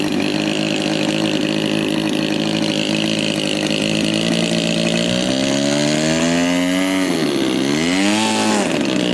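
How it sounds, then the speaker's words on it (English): A small model airplane gas engine, a Fuji 32, screams at high revs, loud and steady, with its pitch sliding down and back up near the end, at a warbird and classic model air show in Michigan. "What do you have for engines in that, Carl?"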